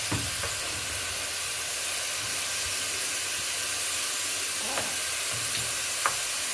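Water hits seared meat in a hot pan, setting off a steady, close sizzling hiss with scattered faint pops and crackles, and no voices.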